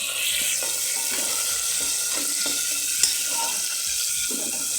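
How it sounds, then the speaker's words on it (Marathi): Onion and tomato fry in a pan for a green-pea rice dish, giving a steady broadband sizzle with occasional stirring scrapes and one brief clatter near the end, close and continuous without talk. "कांदा आणि टोमॅटो आपल्याला मऊ होईपर्यंत भाजून घ्यायचं, शिजवून घ्यायचं ते."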